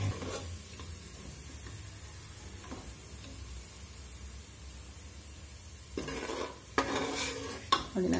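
Fried onions for chicken biryani are stirred in a pan, a soft scraping and faint sizzle running steadily, then louder clinks and scrapes of the utensil near the end, with no talk.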